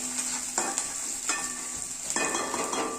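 Green chilies fry in a pan with steady sizzling and intermittent scraping stirs, a close, continuous crackle with no voices, part of making a potato fasting snack.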